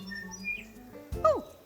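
A tui sings alone, a mix of quiet tonal notes followed by a sharp bright squeaky chirp and a sliding whistle near the end, all fairly soft and close.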